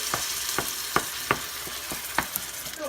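Whole canned tomatoes are crushed with a spoon in a hot sizzling pan for spaghetti sauce, with a constant fry hiss broken by about eight sharp, evenly spaced taps and squelches, close and clear.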